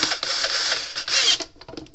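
Screwdriver loosening a screw on a Gallagher W210 livestock weigh scale, a close, fairly loud whirring grind lasting over a second, then a few faint clicks.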